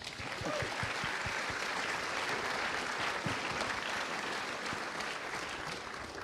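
A seated audience at a talk on ancient aliens and cosmic cycles gives a round of applause, dense and steady, fairly distant and soft, fading slightly toward the end.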